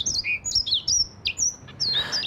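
A songbird sings a quick run of bright, sweeping chirps and whistled notes, close and clear against a faint low background, with no voices.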